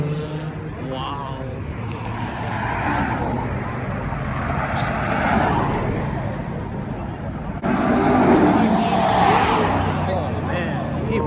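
A car pulls away from a car meet with a broad engine roar that builds and surges louder near the end, mixed with crowd noise and nearby people talking.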